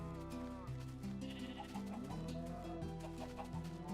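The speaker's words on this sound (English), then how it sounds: "Come on, chickens." Synthetic clucking chicken calls and bleating farm-animal calls in Minecraft over a steady, bouncy game music loop, with repeated short squawks and no talking.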